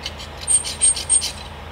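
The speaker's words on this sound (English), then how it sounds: "Scribe it out. Gives you a couple nice lines." A Malco scribe tool with a small sharp screw tip scrapes layout lines into a workpiece, giving three quick, close rasping strokes in a steady rhythm.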